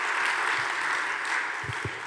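Audience at a talk applauding: a steady wash of clapping from many hands, fairly distant and even, with a couple of low thumps near the end.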